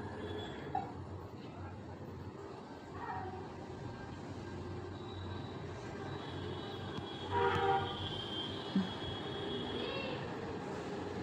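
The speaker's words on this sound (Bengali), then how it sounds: "দেখো ট্রেনটা এবার ছাড়বে।" A toy train ride at a fair gets ready to start, with horn-like tones and mechanical rumble over a noisy fairground murmur; people talk nearby.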